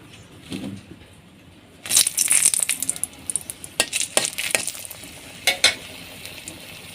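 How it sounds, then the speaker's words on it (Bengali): Onion and dried red chilies hit a hot pan for aloo paratha filling: a quiet stretch, then a sudden loud sizzle with a few sharp clinks of a stirring utensil, close by and with no voices. "এখন আমি পেঁয়াজ শুকনো মরিচ ভেজে নেব"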